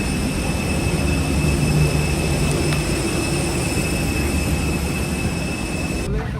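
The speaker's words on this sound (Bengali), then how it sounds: "বিমানের ইঞ্জিনের প্রচণ্ড শব্দ হচ্ছে।" An Air Arabia airliner's jet engines roar loudly and steadily while boarding stairs are climbed, a broad constant rumble with a high whine across the whole span.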